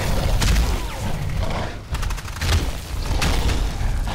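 A monster's roaring fire breath attack in Evolve sends dense, crackling bursts of flame noise in several loud surges, punctuated by sharp booming hits.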